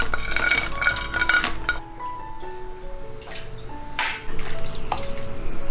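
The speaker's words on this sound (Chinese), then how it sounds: "把所有材料都清洗一下。" Dried smoked plums, hawthorn, tangerine peel, licorice root, rose buds and mulberries being rinsed in a bowl of water, with close splashing, dripping and light clinks of dishware in uneven bursts, louder again near the end.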